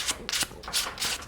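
Sandpaper rubbing against a walnut chess pawn spinning on a wood lathe, heard as a few quick, close, breathy scratching sweeps of moderate loudness with short gaps between them.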